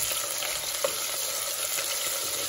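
Tomato paste sizzles in hot grease in a pan while cooking jollof rice, a dense, steady, close hiss with faint stirring scrapes and no speech.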